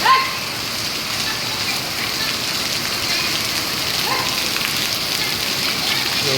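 Heavy rain pours steadily in the evening during a days-long downpour, a dense, loud, even hiss filling the whole stretch without letup.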